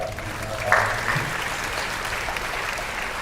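An audience at a film festival poster launch press conference applauds as Satish Kaushik is invited onto the stage, a steady wash of clapping with a brief swell near the start, then continuing evenly at moderate loudness.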